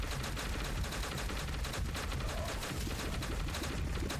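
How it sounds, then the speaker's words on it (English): Two bolt guns firing nonstop in the game God of Weapons, a dense, steady rattle of rapid shots and impacts that keeps an even loudness throughout. "we have 2 bolt guns now, so let the hellfire begin"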